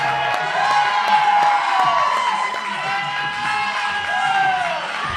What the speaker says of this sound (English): We need you guys loud to cheer him on for this last 60 seconds